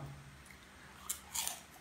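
Dry-fried pork intestines are bitten and chewed with two short, crisp crunches close to the mic over a quiet background.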